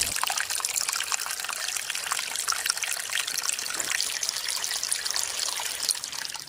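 Water from a tributary of the Tintillo river trickles and gurgles steadily beside a rocky trail through scrubland, a continuous close, bright babble with no break.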